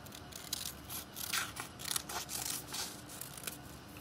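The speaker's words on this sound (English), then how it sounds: "I'm just going to cut out a fun little tail" Scissors cutting a fish tail out of paper in a close, quiet series of crisp snips and paper rustles, roughly a dozen cuts in an uneven rhythm with no talking.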